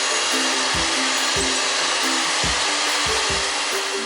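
An electric hand beater whips a cup of whipping cream in a bowl, a loud, constant high-pitched motor whir with a repeating rhythmic scraping knock as the beaters hit the sides, heard up close and alone.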